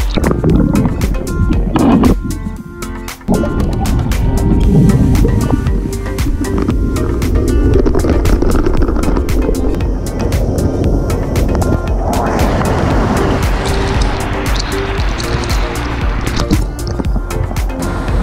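Rushing roar of a waterfall in Darwin where a swimmer goes beneath the falling water, a loud steady wash throughout with a brief dip early on and a brighter hiss building in the second half.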